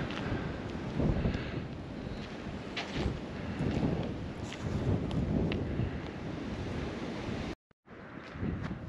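Wind blows steadily for several seconds with rushing gusts and surf-like swells, briefly cutting out near the end.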